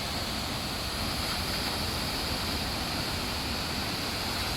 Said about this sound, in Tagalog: ang lakas ng bagsak ng tubig.